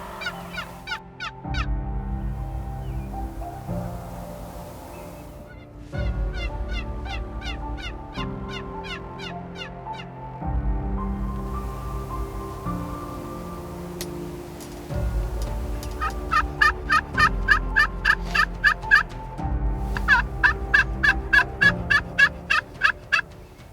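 Wild turkeys gobbling from the roost at a hunt, several loud rattling gobble bursts recurring throughout, some overlapping, over steady low background noise.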